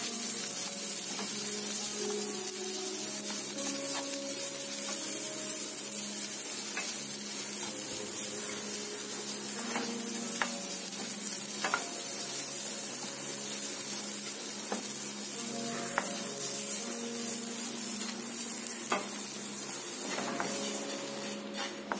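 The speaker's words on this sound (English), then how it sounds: "We will add the bitter gourd in it. We will fry them" Bitter gourd pieces sizzle and fry steadily in a pan, a constant hiss with occasional stirring clicks, with no talking.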